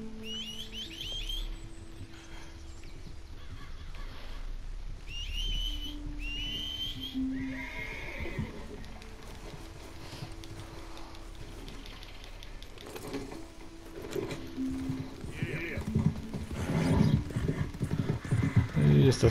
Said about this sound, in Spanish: Voy a llamar a mi caballo.